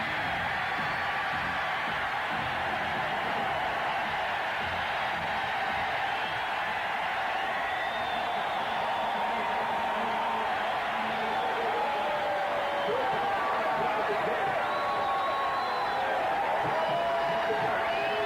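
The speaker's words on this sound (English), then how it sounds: "They'll stand and cheer the Jacksonville defense." A packed stadium crowd cheers the Jacksonville Jaguars defense against the Philadelphia Eagles in a 1997 football game, a loud, sustained roar that swells slightly toward the end.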